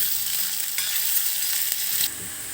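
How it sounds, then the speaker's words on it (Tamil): Curry leaves and onion sauté with a little salt in a pan for vatha kuzhambu, making a short, even, close sizzle with a faint stir. "கருவேப்பிலை இதை போட்டு நல்லா வதக்கவும். கொஞ்சம் உப்பு சேர்த்துக்கிட்டா வெங்காயம் நல்லா வதங்கி வரும்."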